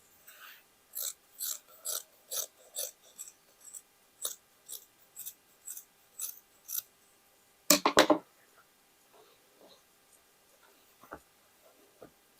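Scissors cutting fabric pieces for a plus-size hooded jacket: a steady run of close, crisp snips in an even rhythm, a brief louder burst, then a few faint, scattered snips.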